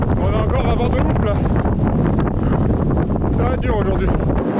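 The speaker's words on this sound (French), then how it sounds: "On a encore un vent de ouf là." Strong gusting mountain wind buffeting the microphone with heavy roaring rumble, while voices talk over it.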